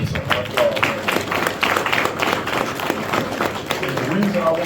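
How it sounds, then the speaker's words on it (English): Applause from the audience at a high school football banquet, a steady, dense clapping from a crowd that fills the room, mixed with chatter and cheering throughout. "let's give our parents and the people that help us our applause"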